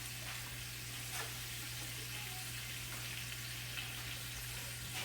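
Honey-glazed chicken pieces fry in a pan with a steady, even sizzle and crackle that holds without a break, close and fairly quiet, over a low constant hum.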